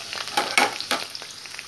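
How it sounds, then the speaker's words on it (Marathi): Onion sizzles in hot oil in a wok, a soft steady frying hiss with a few louder bursts as the pieces are stirred and tossed, nobody speaking. "मी त्यामध्ये आता कांदा घालणार आहे। कांदा आपल्याला चांगला परतून घ्यायचा आहे।"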